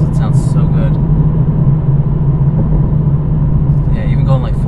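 A 2020 Toyota Supra's engine droning as a loud, steady low rumble from inside the car at speed, with voices talking over it; distinct pops and crackles are not clearly separable.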